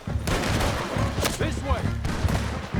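Gunfire in Red Dead Redemption 2, several sharp shots cracking in quick succession over a busy scene, loud and close, with voices speaking around them.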